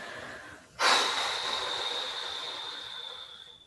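A single forceful breath pushed out during seated qigong self-massage: a sudden close rush of air that peaks sharply and then fades slowly over a few seconds, heard alone with no talking.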